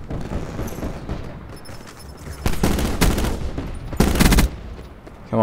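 Gunfire in Black Ops 4, loud sharp shots with two dense bursts around the middle and end over a continuous game background.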